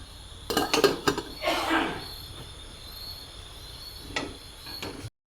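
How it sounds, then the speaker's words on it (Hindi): A lid clinks and rattles onto a cooking pot of bamboo shoot curry in a home kitchen, with a few metallic taps early on, then quiet steady background hiss and a brief clatter near the end. "अभी ढक देता हूँ।"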